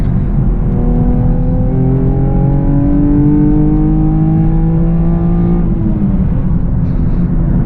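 Chevrolet Camaro V6 1LE accelerating up a highway on-ramp at night, the engine note climbing steadily through one long gear pull before a shift near the end, loud and close from inside the car.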